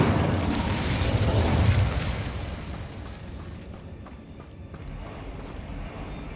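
A fire spell in Hogwarts Legacy erupts in a rushing, crackling whoosh that swells for a couple of seconds, then eases into a steady burning hiss with light scattered crackles.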